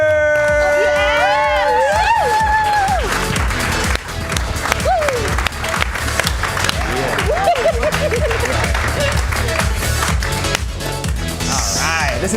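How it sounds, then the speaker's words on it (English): An improv comedy audience claps and cheers steadily for the Curious Comedy players, with whoops rising above dense applause and a host's voice over the crowd. "Keep that applause going for your Curious Comedy players!"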